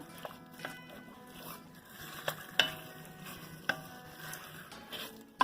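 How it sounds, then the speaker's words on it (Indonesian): Beef for rendang is stirred and sautéed in a pan, giving faint sizzling under scattered spatula scrapes and a few sharp clinks against the metal, quiet and close with no talk. "Kita aduk rata, ditumis lagi."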